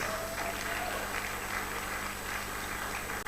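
An audience at a celebrity book launch for Asamoah Gyan in Ghana applauds a comedian taking the stage: a steady, fairly subdued wash of clapping that holds evenly throughout, with no voices over it.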